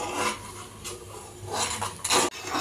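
Milk being stirred in a pan on a high flame while making palkova, a scraping, rasping rub of a utensil against the pan bottom in uneven strokes, close and clear with no talk.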